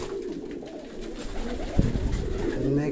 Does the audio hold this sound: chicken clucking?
no